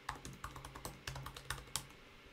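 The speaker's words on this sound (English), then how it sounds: "I'm going to go ahead and enter the same password that I entered before." A password is typed on a computer keyboard during a Python installation on macOS: about fourteen quick, close key clicks in an uneven rhythm, then a short pause at the end.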